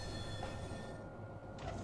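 Tram running in the TrainZ video game, NF10 low-floor tram in a big-city setting: a steady rail rumble with faint wheel hiss and a brief squeal, quiet and continuous, no voices.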